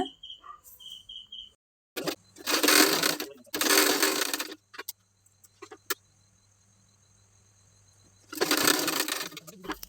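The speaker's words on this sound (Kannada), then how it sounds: "ಈಗ ಇದಕ್ಕೆ ಹುಕ್ ಪಟ್ಟಿ ಹಚ್ಚಿ ಸ್ಟಿಚ್ ಮಾಡ್ಕೊಳ್ಳೋಣ" A sewing machine stitches a hook strip onto a princess-cut blouse in three loud, steady runs of a few seconds each, separated by near silence and a few small clicks.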